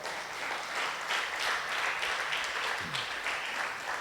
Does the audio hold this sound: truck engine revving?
no